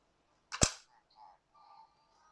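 Power Rangers SPD toy morpher in judgment mode gives one sharp electronic blast like a cap-gun shot, followed by short, faint beeping tones, close and brief.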